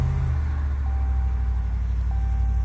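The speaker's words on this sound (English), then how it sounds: "when I cranked up the vehicle" A Limited model vehicle with air ride suspension idles with a steady, close, low engine rumble after starting, holding an even level throughout, with no voices.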